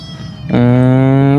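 A cat gives one loud, close, sustained meow that starts abruptly partway in after a quieter stretch.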